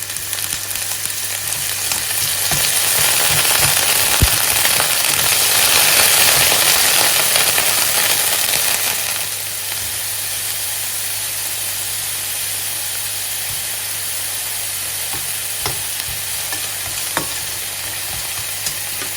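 Shrimp hit a hot pan of fragrant fried garlic for a Thai scrambled egg dish, bursting into loud sizzling and steam hiss that settles into a steadier, quieter fry, with occasional stirring clicks.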